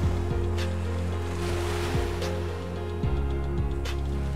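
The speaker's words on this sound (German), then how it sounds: "Heute ist die Flut ungewöhnlich stark." Strong tidal surf and ocean waves wash continuously along the shore at Salvador da Bahia, a steady broadband roar with low rumbling swells and occasional louder crests, heard alone without voices.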